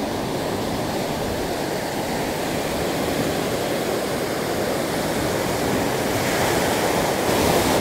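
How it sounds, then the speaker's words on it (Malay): Strong ocean waves break at the shore of Teluk Cempedak, a loud, continuous roar of surf and rushing water that swells slightly toward the end, with no voices. "Ombak masih kuat."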